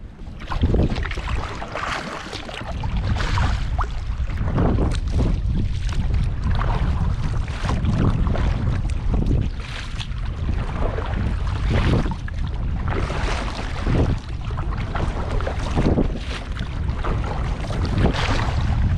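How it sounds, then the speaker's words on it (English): A sea kayak paddled out at high tide off the UK coast on a fishing trip, with steady wind rush and water noise throughout and soft repeated paddle strokes sloshing close by, no talking. "I'm gonna paddle out now"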